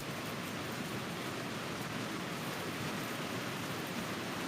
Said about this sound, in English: Gonna get ourselves a little rain.